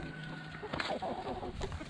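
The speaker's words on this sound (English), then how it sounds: "So these are the meat birds that we're going to be processing." Meat chickens twelve weeks old clucking in a free-range backyard setup, a few soft close clucks and murmurs over steady outdoor background noise.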